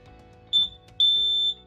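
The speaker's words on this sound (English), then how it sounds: "We then link the smoke alarm." A LINKD interlinked smoke alarm beeps during linking: a short high-pitched beep followed by a longer sustained tone, clear and close in a quiet room.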